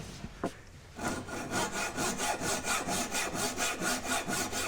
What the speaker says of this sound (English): Cutting on the rip as it was on the crosscut